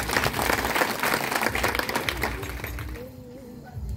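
A crowd of listeners at a Marathi kirtan gathering during a week-long harinam devotional event claps in a dense, steady burst of applause that gradually thins and fades toward the end.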